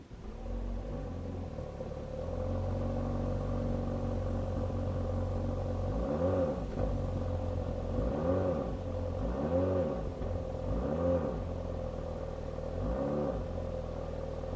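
The 1.3 turbo petrol engine of a Jeep Renegade 240 eAWD 4xe plug-in hybrid hums at a steady idle, then its engine and exhaust rev up and fall back several times in quick succession.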